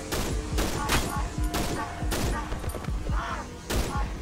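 Rapid pistol fire from a P-345 in the horror game Cry of Fear, sharp close shots repeating in bursts over a dense, busy game soundscape with a faint voice underneath.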